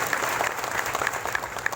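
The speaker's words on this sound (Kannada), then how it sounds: "ಗೋಕಾಕ್ ಗ್ರಾಮದವರು ಎಲ್ಲರೂ ಜೋರಾಗಿ ಅವರಿಗೆ ಚಪ್ಪಾಳೆ ಮುಖಾಂತರ ಅವರಿಗೆ ಇದನ್ನು ಕೊಡಬೇಕು" A crowd claps at the Gokak village goddess fair, a brief burst of close, dense applause with individual claps standing out.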